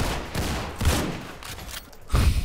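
Gunshots in the Roblox game Criminality, including a double-barrel shotgun, a rough cluster of loud near bursts with short gaps, the heaviest blast near the end.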